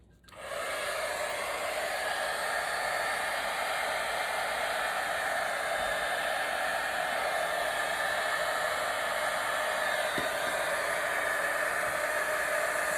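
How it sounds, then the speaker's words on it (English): A heat gun blows steadily on a beginner's fresh acrylic pour painting, a loud, continuous breathy roar like a hair dryer that kicks on after a brief quiet start and holds without a break. "I'm gonna just use a heat gun really fast and see if I can."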